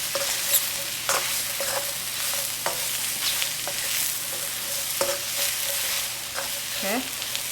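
Chicken, mushrooms and vegetables frying in a stir-fry pan for moo goo gai pan, a steady close sizzle with scattered scraping stirs and utensil taps throughout.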